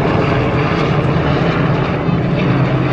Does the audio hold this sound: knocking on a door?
no